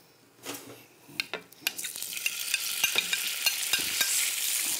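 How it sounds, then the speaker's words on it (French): Swordfish pieces sauté in a hot pan, a steady sizzle building and holding while a utensil scrapes and taps the pan in irregular strokes, close and alone. "On va pouvoir faire revenir les morceaux."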